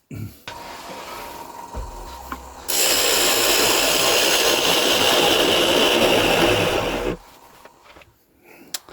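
An oak offcut spins on a wood lathe as it is turned to fit a cake stand plate, with a loud, steady whirring and scraping hiss that runs for several seconds before cutting off into quieter motor hum.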